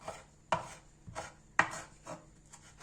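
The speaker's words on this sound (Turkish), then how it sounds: "Çaşırımı arkadaşlar şöyle kıyıyorum ince ince." Knife finely chopping çaşır, a wild herb, on a board for Erzurum-style çaşır kavurması, with several separate crisp strikes spaced irregularly, close and fairly loud with no voices.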